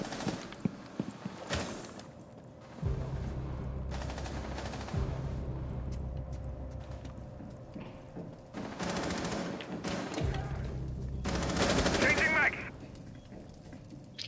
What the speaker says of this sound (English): Shoot at it, shoot at it. Keep shooting.